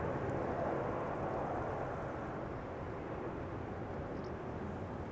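Boeing 787-8 Dreamliner airliner taking off at Amsterdam Schiphol Airport, a broad, steady jet roar at moderate distance that holds constant without any talk.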